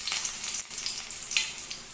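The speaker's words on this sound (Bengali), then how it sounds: "তেল গরম হয়ে গেছে, এর মধ্যে দিচ্ছি গ্রেট করা রসুন" Grated garlic hits hot oil in a pan, producing a soft, steady crackling sizzle with fine spitting hiss throughout a brief moment, no voices present.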